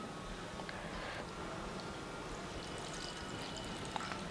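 Water poured off rinsed semolina in a kitchen while making rava kurdai, a soft steady trickle and pour, faint and continuous with a few small clinks.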